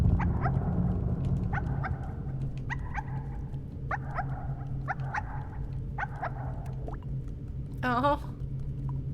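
A dog in Wandersong gives a string of short, fairly quiet barks and yips over a low steady hum, ending with a brief rising whimper.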